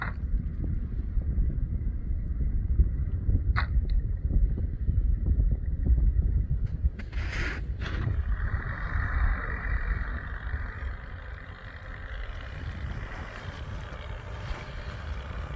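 A Bombardier vehicle on a customer's test run gives off a continuous low engine drone with wind buffeting the microphone and a few faint clicks and thumps along the way.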